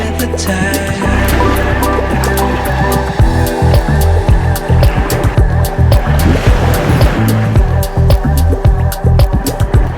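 Waves break on Playa de la Arena in Tenerife, a black-sand beach that slopes steeply into deep water, with loud, close surf surges and rushing wash mixed with busy outdoor noise.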